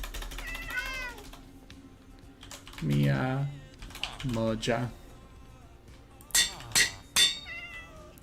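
Minecraft cat meowing in several short, rising-falling calls, interleaved with a person speaking and some keyboard typing.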